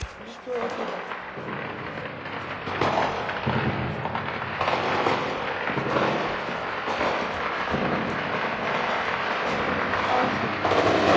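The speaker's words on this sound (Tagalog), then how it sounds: "yung mga paputok na naririnig ng mga Ruso, hindi yun mga paputok ng ika-4 ng Hulyo na naririnig natin dito" Explosions from a drone attack on St. Petersburg come as a dense, continuous rumble of booms and crackling bursts with a jet-like roar, heard from a distance and mixed with voices.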